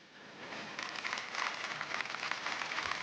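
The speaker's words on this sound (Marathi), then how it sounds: "यांच्यासाठी जोरदार टाळ्या झाल्या पाहिजेत" Audience applause for two women after their Mangalagaur performance on a Marathi TV show, a dense, steady clapping that rises within the first second and continues loudly throughout.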